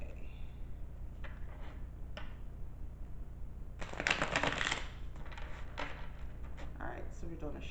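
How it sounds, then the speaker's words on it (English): Tarot cards riffle and clatter in a brief shuffling burst over a low steady hum, with a few lighter card taps afterward. "So we're doing a shuffle, like we would any cards."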